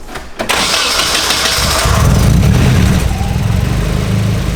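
A car engine with a recirculated turbo wastegate cranks and catches, then settles into a loud, steady rumbling idle close by.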